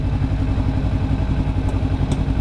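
Motorcycle engine running close by outside a shopping centre in Sorocaba, Brazil, a steady, rough low-pitched throb with rapid pulsing firing and no break over its short span.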